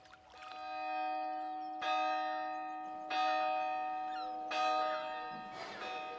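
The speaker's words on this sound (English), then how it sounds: "Who pulls the town hall bell rope but blind Captain Cat?" A town hall bell tolls about four times at slow, even intervals, each strike ringing out with a long humming decay, loud and alone, with a faint trickle of water beneath.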